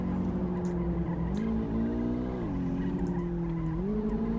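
A Golf 8 in the City Car Driving video game slides in a handbrake drift, its tires skidding in a steady squeal over the engine drone that rises and falls in pitch a few times.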